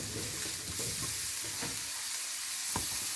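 Carrot and green chilies sizzle in a pan as pasta is cooked, a steady close frying hiss broken by a few soft scrapes and clicks as the vegetables are stirred.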